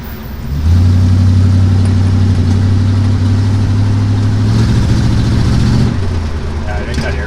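A shop truck's engine labours and bogs down because of a filthy air cleaner, giving a loud, low, steady rumble with a strong droning hum that holds for several seconds, then drops off near the end.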